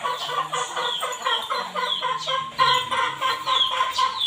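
Hens clucking in a backyard flock, a continuous near chorus of overlapping clucks and short calls, fairly loud with no talking.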